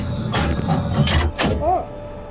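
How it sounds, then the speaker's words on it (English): In the tank game GHPC, a tank door slides open and shut with a few short mechanical swishes and clunks over a background hum, heard close up and alone. "you can hear the door opening and closing"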